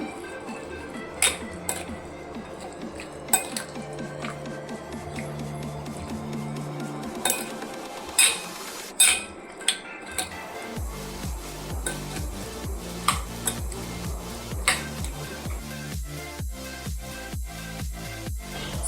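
Chicken being mixed with mustard oil in a bowl for Champaran chicken clinks and clatters against the dish, irregular metallic taps and scrapes with soft squishing between, close and moderately loud.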